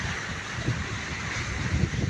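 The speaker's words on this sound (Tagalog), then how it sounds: "Kita nyo mga alon sa mga nagputi-puti sa tabi" Wind buffets the microphone while ocean waves wash and surge near an island, a steady close rumbling roar without speech.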